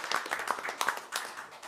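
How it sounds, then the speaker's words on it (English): Council meeting audience gives a round of applause for police officers, a moderate, steady patter of many hands clapping throughout, somewhat distant in a meeting hall. "I would like to just give them all a round of applause and thank them for their service"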